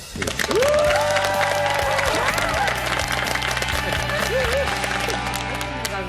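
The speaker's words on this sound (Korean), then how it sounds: "여러분 박수로." Studio audience applause on a Korean TV talk show, a dense wash of clapping filling the space throughout, with background music tones and a brief voice layered over it.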